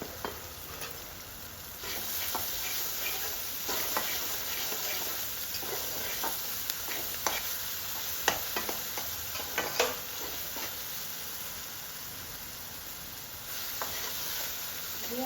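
Turmeric, red chilli and salt roasting in a pan for a dhaba-style potato and taro curry masala, with a steady sizzle and repeated scraping stirs at close range, no talk.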